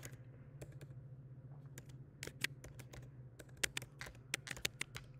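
Irregular bursts of crisp key clicks from a computer keyboard, close and moderately quiet, clustering more densely toward the end over a steady low electrical hum.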